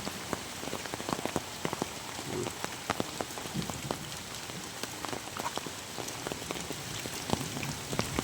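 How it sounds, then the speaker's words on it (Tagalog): Rain falls steadily on a farm field among banana trees, a constant soft hiss with scattered louder drip and splash hits close by, and no talking. "Abutan pa kami ng ulan dito mga ka-idol."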